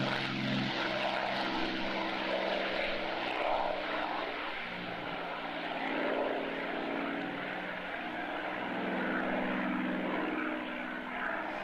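A Phantom jet flies past at an airshow in archive footage, its engine roar a steady, loud, broadband rumble that holds for the whole stretch with gentle swells and no voices.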